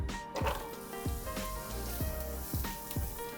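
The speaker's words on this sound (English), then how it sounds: "My oil seems to be hot enough now, so I will add my onions" Chopped onions hitting hot oil in a pan, giving a bright crackling sizzle with a few sharp pops and spatters, close and steady.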